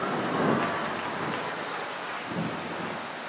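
Heavy rain pouring without pause, a dense continuous roar of falling water with faint low rumbles underneath, steady and loud throughout.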